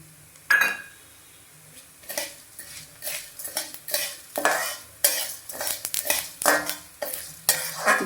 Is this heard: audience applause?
no